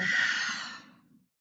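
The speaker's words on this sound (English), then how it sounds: "Big inhale. Exhale." A deep, breathy exhale during a restorative yoga stretch, close and soft, airy hiss fading out over about a second with no talking.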